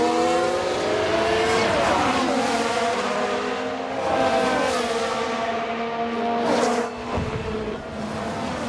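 Ferrari Formula One car engine from the F1 Manager 22 racing game, 1994 season: a loud, continuous high-pitched race-engine whine with shifting revs and gear changes, sustained close throughout with a brief dip near the end.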